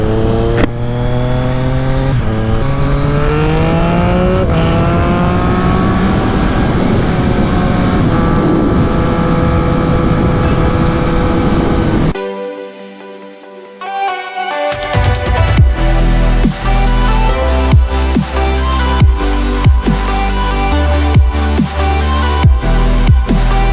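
A Triumph Street Triple 765 RS motorcycle with a SPARK exhaust riding and accelerating, its loud, deep, bassy engine note climbing through the gears, then a short lull before it revs hard again, close and continuous.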